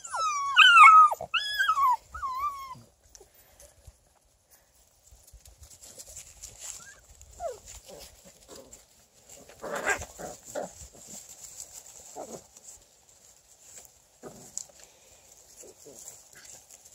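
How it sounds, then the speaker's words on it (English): Six-week-old beagle puppies yelp and whine in high-pitched bursts at first, followed by quieter scattered whimpers, shuffling and soft movement noises nearby. "I get to play with beagle puppies"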